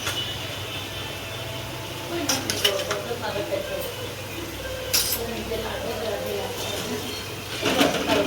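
A spoon stirs spices into a curry in a pan, scraping and clinking against the metal in a few brief bursts over a steady low kitchen hum, with voices speaking intermittently.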